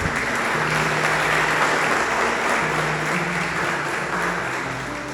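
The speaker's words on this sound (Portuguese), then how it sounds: "Você pode aplaudir ao Senhor?" Church congregation applauding, a dense steady wave of clapping that holds loud throughout and eases slightly toward the end, with a faint tone underneath.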